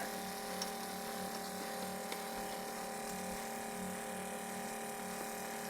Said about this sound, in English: now I'm gonna pretty much spray all the grass